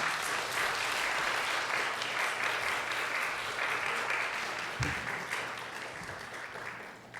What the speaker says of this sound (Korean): 우리 보내는 선교사님들을 위해서 우리가 수고하셨다고 우리 박수하면서 드리겠습니다